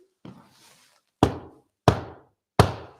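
Knocking on a wooden surface inside Alcester Town Hall: one soft knock, then three sharp, evenly spaced knocks, heard close and alone.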